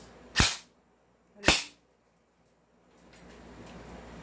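M4A1 airsoft rifle firing single shots through a chronograph, two sharp loud cracks about a second apart, then quiet low room noise.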